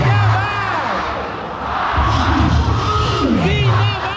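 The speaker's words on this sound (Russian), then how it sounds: "Смотрите, они прям заводят толпу," Loud crowd cheering and shouting at a Pakistan border ceremony, a dense roar of many voices with rising whoops and bellows throughout, swelling near the middle and staying strong to the end.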